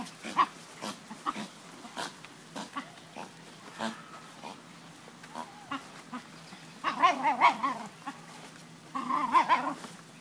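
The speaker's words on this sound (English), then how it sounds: "Oh, now you're going to bark?" Faint, scattered yips and short barks from a dog at a moderate distance, with a couple of louder clusters of barking near the end.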